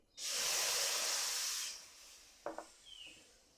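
Milk poured into a hot kadai on a gas stove gives a loud, steady hiss that lasts about a second and a half, then dies away into light clinks and small sizzles.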